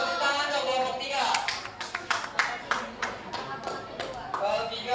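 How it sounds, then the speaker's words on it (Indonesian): A classroom group gives a short burst of applause: scattered, uneven hand claps at close range, mixed with chatter and voices throughout. "Tepuk tangan dong kelompok 3."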